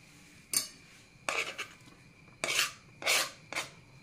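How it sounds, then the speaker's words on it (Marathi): Masala rice and fresh coriander are stirred in a pan, giving five short metallic scraping strokes spaced apart with quiet pauses in between and no talking. "एकदा पुन्हा नीट मिक्स करून घ्यायचंय"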